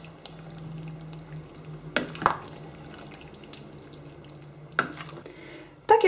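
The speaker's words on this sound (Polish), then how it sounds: "Teraz postaram się to wszystko przemieszać." Utensils scrape and clack against a pot of lecsó vegetables in a few sharp knocks, with soft stirring and sizzling between them.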